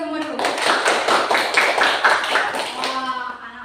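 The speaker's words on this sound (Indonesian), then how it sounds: "kasih tepuk tangan untuk kita semua dulu." Children clapping their hands together in a classroom lesson, a burst of rhythmic claps from a group that starts suddenly and fades out after about three seconds, with voices around it.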